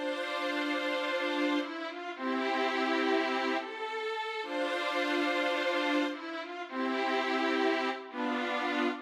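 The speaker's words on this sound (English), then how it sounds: "the new string section that I added sounds like this" Sustained string chords, panned left, swell and shift through a different progression in a hip-hop beat, with four long held phrases separated by short breaks and no voices.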